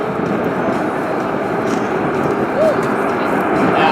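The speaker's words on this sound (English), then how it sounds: "Now watch this combat takeoff." A USAF B-1 bomber on a combat takeoff at an airshow gives a loud, steady broadband jet roar that holds constant throughout, thick and close.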